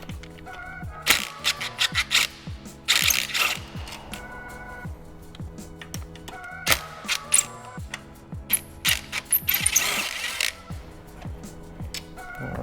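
A hand ratchet clicks in quick rhythmic runs while a 6mm hex fastener on an Aprilia RSV4 motorcycle foot peg is loosened, with short pauses and a few clattering handling noises between the bursts of ticking, close by and fairly quiet.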